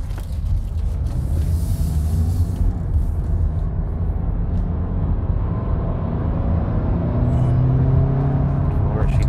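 A 2014 Toyota Camry XLE driving in eco mode gives a steady, continuous engine and road drone that rises gently as it accelerates, with a low rumble dominating throughout and no talk.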